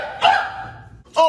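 A dog gives two short, sharp barks close by, separated by a brief pause, loud and alone with no talking.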